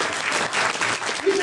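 Audience at a magic and comedy show claps in a brief, continuous burst of applause, fairly close and steady throughout.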